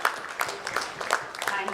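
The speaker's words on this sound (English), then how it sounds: "Please a big round of applause for Mr." Applause from a medical conference audience, a moderate patter of overlapping claps with a few sharper hits standing out, heard at some distance in a hall.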